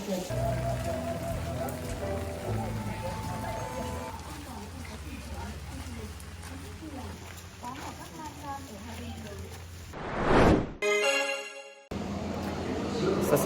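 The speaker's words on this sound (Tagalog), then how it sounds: "Kaya lang bumuhos na talaga yung ulan" Steady broadband rain hiss fills most of the stretch, heavy and continuous, with people talking over it on a foggy mountainside near a cable car at Sun World Fansipan Legend in Vietnam; a loud handling rustle interrupts near the end.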